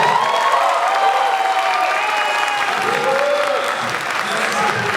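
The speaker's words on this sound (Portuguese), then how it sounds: "Vamos aplaudir Glauco Marques." Audience applause at a Brazilian dubbing convention panel during DublaCon 2022, steady and dense throughout with scattered cheers and voices mixed in.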